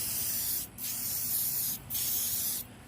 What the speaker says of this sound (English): just keep spraying paint on it.